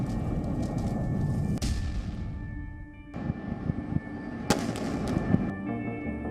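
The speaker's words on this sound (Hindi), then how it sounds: "रात के अंधेरे में इजराइल के लड़ाकू विमानों से गाजा पर बम बरसाए जा रहे थे।" Bombs exploding during a night-time Israeli air strike on Gaza, heard as several sharp distant blasts over a low continuous rumble, one dropout midway.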